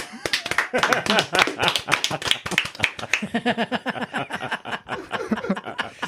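A handful of podcast hosts clap in quick, sharp, uneven bursts close to the mic, mixed with chuckles and light laughter throughout.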